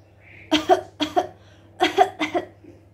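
Voice imitating a cough, four throaty hacks in two pairs, close and clear, with no other sound around them.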